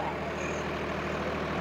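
Swaraj 744 FE or Sonalika DI 745 III tractor pulling a plough, engine held steady in low second gear around 1600 rpm, a continuous heavy diesel drone without breaks.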